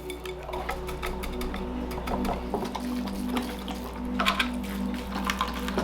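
Water running steadily through freshly repotted bonsai soil in a pot, a continuous close trickling and splashing wash with a low mechanical hum underneath, no talking.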